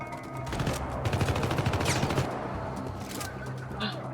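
Sustained automatic gunfire in the Syndicate video game rattles in a dense, continuous stream over a humming background, then tapers off toward the end as the ammunition runs dry.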